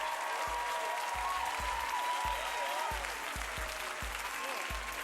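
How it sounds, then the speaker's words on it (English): An audience applauds comedian Ray Lipowski at a stand-up comedy show in New York, the steady clapping filling the room while thumping music pulses and a voice speaks over it. "Clap it up for Ray Lipowski."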